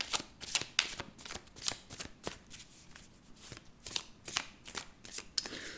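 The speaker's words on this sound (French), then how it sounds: "Je vais remélanger une fois le jeu." A deck of tarot cards being shuffled by hand up close, a quick run of crisp riffling snaps and flutters repeating in bursts with short pauses between, no voices.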